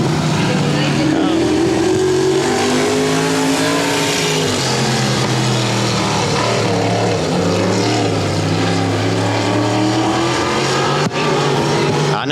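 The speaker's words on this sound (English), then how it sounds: "Arklatex wing modified heat race action" Wing modified race cars roar around the Boothill Speedway track during an Arklatex heat race, a loud, continuous engine drone with rising and falling pitch as cars accelerate and pass close by.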